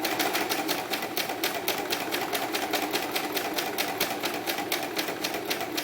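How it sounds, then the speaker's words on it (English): A serger overlock sewing machine runs steadily while stitching a straight seam on a doll romper, its rapid even needle chatter loud and close, with no talking. "so I'm just going to do straight serging here till I get to the crotch"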